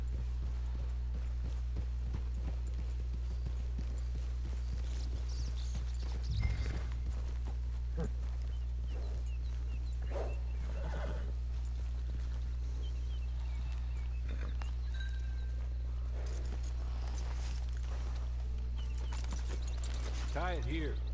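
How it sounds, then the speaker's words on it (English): Horse hooves clip-clop steadily at a walking pace in the Red Dead Redemption 2 video game, a moderate rhythmic clatter over a constant low hum, with occasional voices speaking alongside. "It's your horse."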